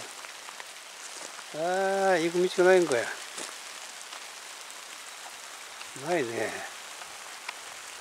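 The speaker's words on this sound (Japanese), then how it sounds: "大粒の雨やな、これ" Heavy rain with large drops pours steadily around the concrete-covered Kengoshizuka burial mound site in Asuka, making a dense, constant patter while people talk briefly over it.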